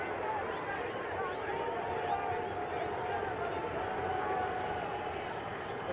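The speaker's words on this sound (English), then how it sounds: "The crowd here at Hampton Coliseum starting to chant, Pete, Pete, Pete." A boxing crowd packs Hampton Coliseum at a Pernell Whitaker vs Greg Haugen fight, a dense, steady roar of massed voices chanting and cheering at a distance, with no single voice standing out.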